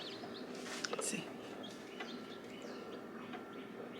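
A chick inside its egg chirps during hatching, giving a few short high peeps up close, with a person talking nearby in the room.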